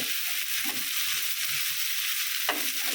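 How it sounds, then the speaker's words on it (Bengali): Chopped garlic, onion and green chilies fry in a pan for a fenugreek-greens dish, a continuous close sizzle broken by the scrape and clack of stirring, with no talking. "এখন রসুন পেঁয়াজ মরিচ বেশ কিছু সময় ধরে ভেজে নেব"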